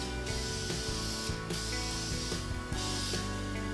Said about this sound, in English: go ahead and start spraying